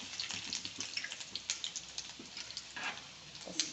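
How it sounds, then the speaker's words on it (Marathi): Mustard seeds, cumin and garlic frying in hot oil in a home kitchen pan, with a quick run of faint, irregular crackles and pops, fairly close and without speech. "आपली मोहरी तडतडली की नंतर जिरे टाकते जिरे टाकते लगेच लसूण टाकते"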